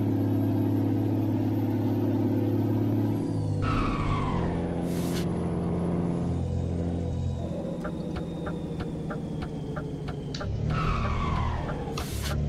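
A Mercedes Atego truck in Euro Truck Simulator 2 idles and maneuvers into a parking spot, a steady engine drone with a high whine, hissing air-brake bursts and a rhythmic series of reversing beeps.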